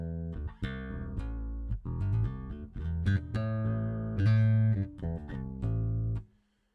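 Electric bass with both single-coil pickups coil-tapped, jazz-bass style, playing a bright, slightly thin melodic line with sustained notes and slides, steady and close, with no voices.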